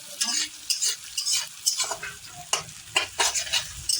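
Chicken pieces sizzling in a pan, stirred with a metal spatula in a home kitchen, scraping strokes repeating in an irregular rhythm over a steady frying hiss, close and moderately quiet, with no talking.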